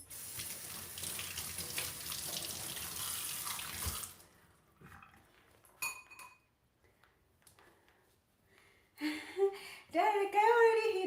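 A household tap gushes steadily for several seconds, close and loud, then shuts off, followed by a few light clinks and knocks of a glass or cup, and a voice speaks at the end.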